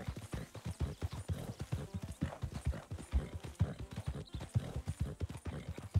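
In the video game Wild RP, rapid, rhythmic horse hooves clip-clop steadily at a trot, fairly close, with no voices over them.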